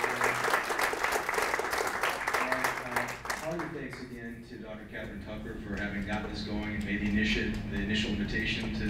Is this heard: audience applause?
yes